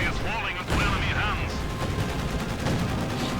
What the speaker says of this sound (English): SU-76 firing away